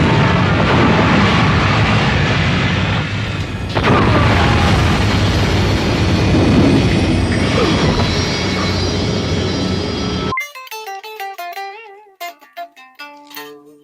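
Film explosions from the 1991 miniseries Golden Years roar as a dense, loud, continuous rumbling blast for about ten seconds, then cut abruptly to a short bluesy guitar lick.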